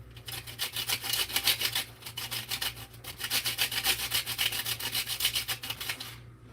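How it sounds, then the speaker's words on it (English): Nutmeg rubbed over a kitchen grater, giving a steady run of quick rasping strokes that come in close, even bursts with a brief pause midway, over a faint low hum. "I can't hold the nutmeg properly because this is not normally the grater that I use it on"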